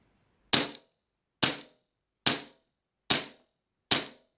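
A Stark Arms Glock 42 airsoft pistol fires five sharp, close cracks at an even pace, each ringing out alone and fading quickly into silence.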